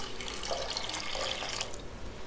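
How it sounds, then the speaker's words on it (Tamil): Water streams steadily into a pot of onion sambar with a soft, continuous splashing gurgle, close by. "தேவையான அளவுக்கு தண்ணி சேர்த்துக்கோங்க"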